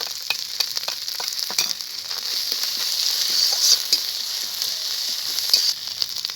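Garlic paste and green chilli paste sizzle in a frying pan over onions that are already fried, a steady bright hiss with occasional crackles and a few stirring scrapes, close and continuous.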